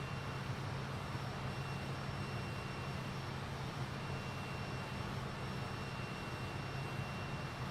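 A Fokker F28 jet airliner in Microsoft Flight Simulator 2020 hums with a steady, unbroken engine drone and faint high whine, heard from inside the aircraft with no talking.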